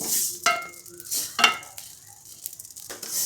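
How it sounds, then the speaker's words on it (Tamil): Sesame seeds dry roasting on low heat for idli podi crackle and pop in short bursts, with intermittent scraping as they are stirred around the pan, close and fairly loud with quiet gaps between. "அனல் கம்மியாக வச்சு வறுத்துட்டுலாம் பொரியும் பட்ட பட்ட பட்ட பட்டன்னு பொரியும்"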